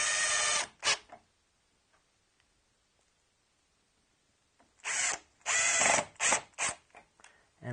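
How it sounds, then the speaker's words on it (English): A power drill drives screws into a round wooden leg: one short whirring burst, a pause, then several quick close bursts in a row, loud and with no talking. "So I'll put a couple other screws in."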